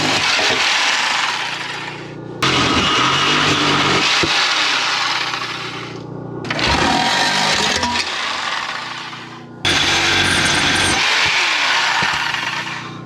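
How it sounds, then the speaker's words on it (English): A generator-powered cutting tool saws through the exhaust muffler under an 88 Thunderbird in four long, loud passes, each a harsh grinding rasp broken by short pauses, with no talking. "So let's get to cutting this muffler out and see what happens."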